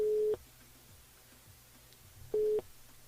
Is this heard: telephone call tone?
yes